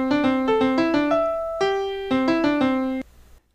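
A short synthesized MIDI melody plays in clipped, evenly spaced notes, some quick and some held, with a clean electronic tone that stops abruptly.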